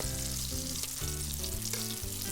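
Two quail pieces deep frying in hot oil in a pan, a continuous close sizzle and bubbling crackle, steady and loud, with no voices.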